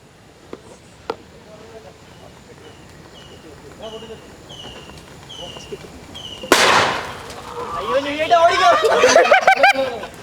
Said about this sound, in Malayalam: എന്തിനാ ആളുകൾ പടക്കം പൊട്ടിച്ചേ